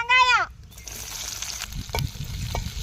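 Food sizzles and crackles steadily in hot oil in a pan, close by, while making egg chutney, after a short voiced sound at the very start.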